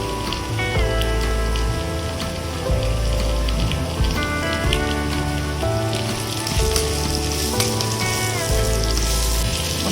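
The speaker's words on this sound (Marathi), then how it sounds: "आता आपला लसूण परतून झालेला आहे, कांदा टाकूया।" Garlic with green chillies and coriander sizzles in hot oil in a pan during cooking of sev tomato curry, a steady dense crackle with occasional stirring clinks running throughout, close and fairly loud, no voices.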